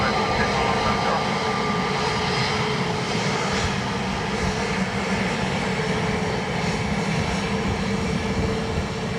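A Ryanair airliner landing on runway 28 at Dublin Airport, its engines giving a steady loud roar that holds throughout without a break.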